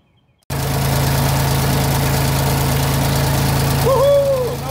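The engine of a 1972 Ford 2000 tractor fires up after a moment of silence and settles into a loud, steady, close idle, with a brief rising whistle-like tone near the end.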